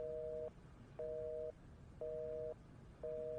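A telephone busy or disconnected tone: four evenly spaced half-second beeps repeating over a faint line hiss.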